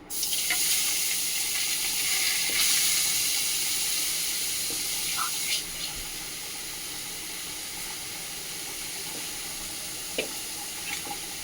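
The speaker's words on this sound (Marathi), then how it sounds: "म्हणजे मी भाजून घेते आता तुपामध्ये" Carrots roasting in ghee in a pan for carrot halwa, giving a steady broad sizzling hiss that is strongest in the first half and then settles lower, with a few faint clinks and no talk.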